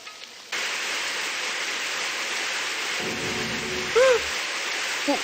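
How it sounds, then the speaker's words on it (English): Ceiling sprinklers in the Super Danganronpa Another 2 video game start spraying water, a steady loud hiss that switches on abruptly and runs throughout, with a brief tonal sound effect near the end. "The sprinklers went off?"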